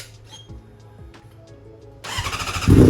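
A 2021 Honda CBR1000RR motorcycle engine fires up after a quiet stretch, then revs into a loud, rough roar that swells sharply at the end, close by.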